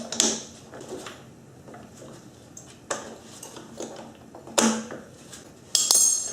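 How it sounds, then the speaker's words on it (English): A 17 mm wrench works loose the chain adjustment bolt on a Honda VFR800Fi motorcycle, making a series of sharp metallic clicks and clanks at irregular intervals, close up with no talking. "So I'm going to take this 17 here and loosen this chain adjustment bolt."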